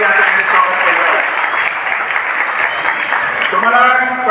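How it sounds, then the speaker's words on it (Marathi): A crowd claps at a political rally held for a road-works inauguration. The dense, loud applause is close and sustained for the whole stretch, with a voice rising over it near the end. "सर्वजण टाळ्या वाजवून या ठिकाणी या ठिकाणी स्वागत केलं आहे."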